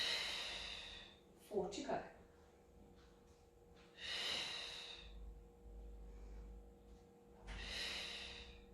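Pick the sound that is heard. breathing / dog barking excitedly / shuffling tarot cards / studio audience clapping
breathing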